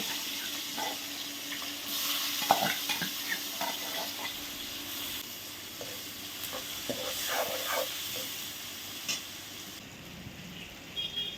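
Asafoetida and cumin seeds sizzle in hot oil in a pan while a spoon stirs them, with a steady frying hiss and scattered clinks and scrapes of the utensil. No one speaks.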